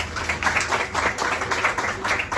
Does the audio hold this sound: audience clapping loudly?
yes